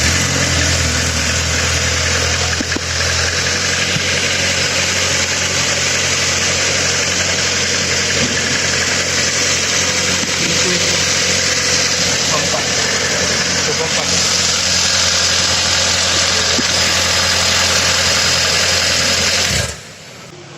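A car engine with an electronic fuel-injection management system idles in a steady, loud, continuous drone with a faint whine on top, then cuts off abruptly just before the end.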